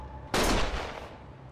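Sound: gunshots in Yakuza: Like a Dragon video game

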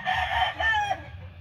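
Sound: roosters crowing and clucking

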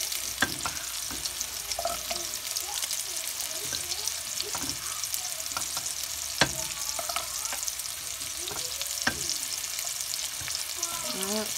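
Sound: beef short ribs frying in grease on stove top

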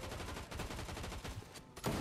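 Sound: gunfire in the video game Fortnite

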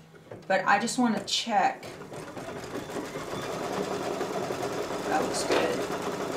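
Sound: embroidery sewing machine stitching the tack down

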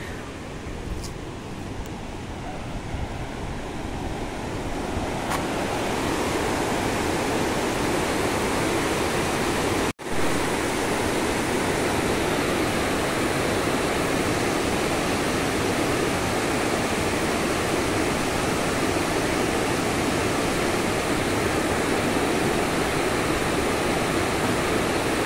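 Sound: water flowing at Statue of Unity viewpoint

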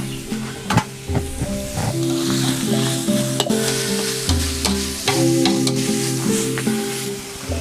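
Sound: minced pork stir-frying with chili

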